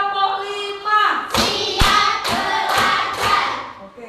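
Classroom of children clapping a rhythmic counting clap pattern led by a teacher, with several sharp group claps in a row and children's voices mixed in at the start.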